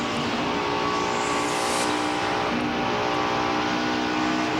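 A NASCAR Busch Series stock car engine roars loud and continuous at the 2001 MBNA Platinum 400 as the driver pedals the throttle through a corner, its pitch surging and dipping with no talk over it.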